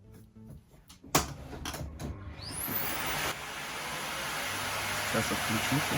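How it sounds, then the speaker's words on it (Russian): A vacuum cleaner switches on after a few clicks and handling sounds, then runs with a steady rising whine and roar that fills the rest. "Давайте включу пылесос и проверим."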